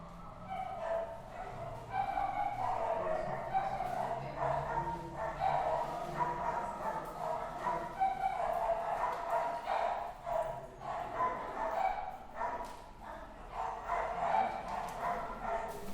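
A female dog that was about to have a litter yips and barks in a series of soft, repeated calls over a steady background rumble.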